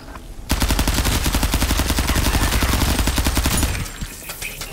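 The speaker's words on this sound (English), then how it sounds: "We missed this shotgun shot" Shotgun fire in the first-person shooter game Out of Action: a loud, close, rapid string of repeated blasts runs for about three seconds and then stops abruptly.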